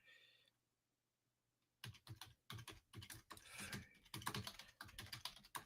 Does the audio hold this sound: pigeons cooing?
no